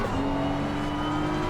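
A BMW M4 GT3 race car accelerates out of a corner at Barcelona in a racing game, its engine droning loud and close with a rising tone over a brief burst, alone without voices.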